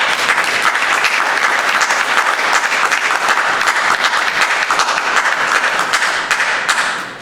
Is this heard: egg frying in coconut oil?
no